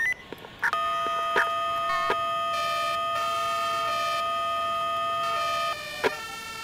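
Emergency vehicle sirens from the video game Emergency 4, a loud steady electronic wail held for several seconds with a few short clicks and bleeps layered over it and no speech.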